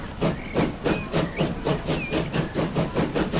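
A train in the Transport Fever 2 game rolls along with a steady rhythmic chuffing of regular loud bursts about three per second, broad steam-like hiss and faint whistle tones on top, no talking.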